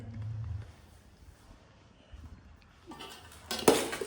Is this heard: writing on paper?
no